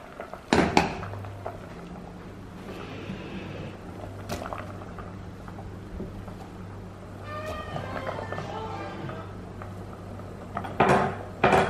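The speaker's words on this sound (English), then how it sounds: "So I'm now going to put this in the oven" Ready-to-eat lasagna goes into a kitchen oven: clattering pan knocks and a door clunk at the start, soft handling noises, then more metallic rattles and a closing bang near the end.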